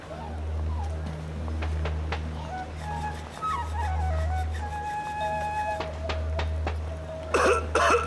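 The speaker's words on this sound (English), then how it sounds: "That coughing of yours is serious disease and you're spreading it around." A man gives a series of short, scattered coughs amid background voices and a low steady hum, ending in a louder burst of harsh coughing.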